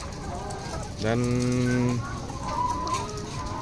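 Laying hens in a low-cost coop cluck steadily nearby, with one hen giving a longer, drawn-out call. A person speaks briefly over the flock.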